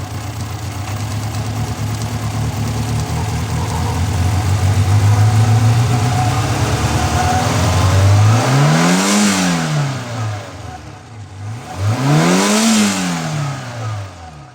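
A 1995 Fiat Punto 176 with a 1.2 8-valve petrol engine, suffering high intake manifold pressure, idles steadily up close, then is revved twice to higher rpm, each rise and fall clearly swelling and fading with no talk.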